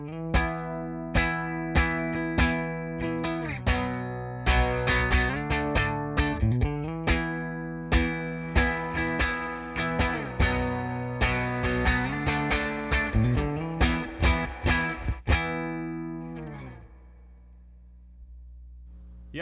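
Electric guitar played through a miked amplifier with a touch of amp reverb, picking out clear melodic notes and chords in a steady phrase for about fifteen seconds, then ringing out and decaying into silence.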